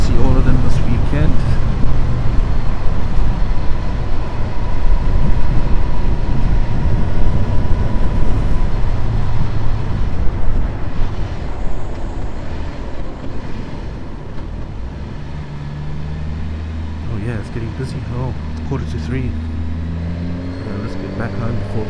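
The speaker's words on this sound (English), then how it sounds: "That's why there's so much traffic all of a sudden." Steady road traffic rushing past a motorcyclist, a broad continuous roar of engines and wind with someone talking over it.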